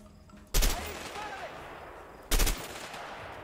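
In a jail-escape video game, a gun fires two short, sharp bursts about two seconds apart over a quiet background.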